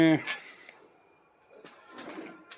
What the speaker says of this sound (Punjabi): ਕਬੂਤਰਾਂ ਵਾਲ ਆ ਵੇਖੋ ਕਬੂਤਰ